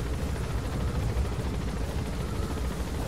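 An enemy helicopter attacks in the video game Metal Gear Solid V: The Phantom Pain, giving a dense, steady rumbling roar that fills the whole stretch without a break. No one speaks.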